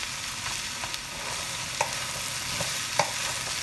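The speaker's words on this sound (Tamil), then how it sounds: "இனி வெட்டி வச்ச உருளைக்கிழங்கு போடுறேன்" Chopped potatoes go into a pan of frying onions: a soft, steady sizzle with a few light knocks and scrapes as they tumble in and are stirred, with no voices.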